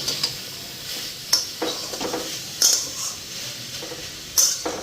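Banana flower cooking in ghee with garam masala, with a steady low sizzle under repeated stirring scrapes and a few sharp utensil clinks against the pan, no talking.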